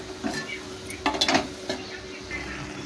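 A lid clanks onto a pot of kochu shak cooking on the stove, with a few sharp metallic clatters amid soft bubbling and a faint voice in the background.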